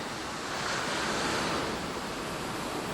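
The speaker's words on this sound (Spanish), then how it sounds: "Viento, sol, olas, fuerza." Strong monsoon wind and ocean waves on a Seychelles coast form a loud, steady roar of surf and gusting air, continuous and close throughout with no voices.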